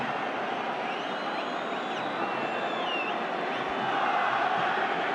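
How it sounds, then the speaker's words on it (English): Large stadium crowd of about 70,000 at a Real Madrid versus Barcelona Clasico in the Supercopa de Espana, a steady broadband roar with faint whistles rising above it, swelling slightly toward the end. "it's a pretty good crowd, as you'd expect for a meeting like this"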